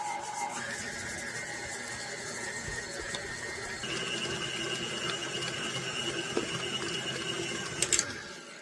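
An electric mixer whirs steadily as it blends cream cheese, sugar and vanilla for a sopapilla cheesecake. The motor's pitch shifts partway through, and a few clanks sound near the end.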